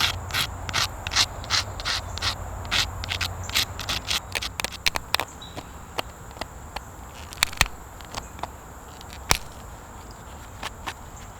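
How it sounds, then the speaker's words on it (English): Stone arrowhead edges dulled by gentle grinding, a stretch of quick scraping rubs that thins out into sparse scratches and a few sharp clicks, close up with no talking. "Do a little gentle grinding to dull those edges."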